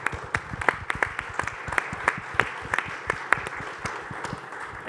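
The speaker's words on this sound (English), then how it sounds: "So a round of applause for all of you that are out here." Steady audience applause after a breakout panel discussion, with many overlapping claps and a few sharp, prominent ones standing out through the clip.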